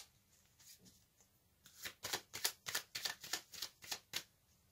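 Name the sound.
shuffling and drawing tarot cards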